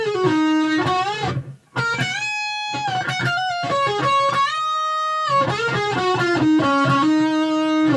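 Distorted electric guitar plays the opening solo part from a song, with fast bent and sliding notes, sustained held tones and a brief gap near the start, loud and alone.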